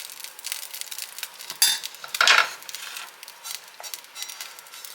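Leftover beef roast mixture scraped into a pan over melted cheese and spread around, giving a soft, close sizzle with a couple of scraping, stirring bursts and light clinks of a utensil.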